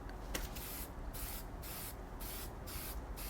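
A spray paint can sprays gold paint onto car trim in a series of about five short bursts, each a close, loud hiss separated by brief pauses.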